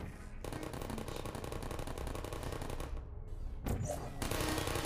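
A Portal turret in the video game fires a rapid, continuous stream of loud shots for several seconds, breaking off briefly before a second burst, with no voice over it.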